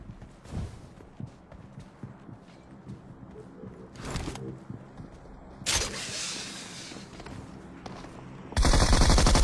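Gunfire in the video game PUBG on the Erangel map: scattered shots and short bursts at varying distances, ending in a loud sustained burst of automatic fire.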